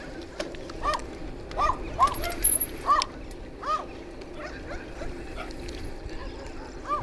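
Village dogs bark outdoors at a distance, several sharp separate yaps and barks spaced irregularly over a quiet rural background, with a faint bird call and some soft voices nearby.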